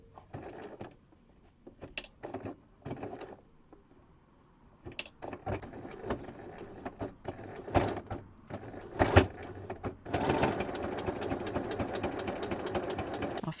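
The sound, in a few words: sewing machine needle struggling through layers of fabric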